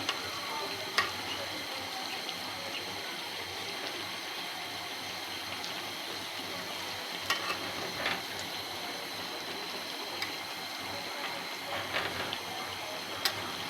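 Steady crackling sizzle of deep frying in oil in a small wok, continuous and fairly close, with a few brighter pops scattered throughout and no voices.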